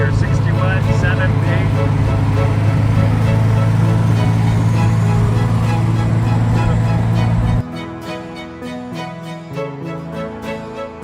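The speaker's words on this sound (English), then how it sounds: "It's always fun to hear this thing start with the header pipe open." A classic car engine running with its open header pipe, a loud, steady, rough low roar filling most of the clip before it cuts off, followed by quieter ambient sound and people talking.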